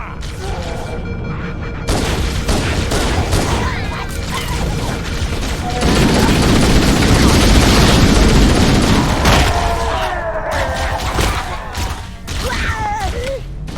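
Halo CE firefight with rapid gunfire and booming blasts, loud and dense through the middle, with voices calling out over the shooting.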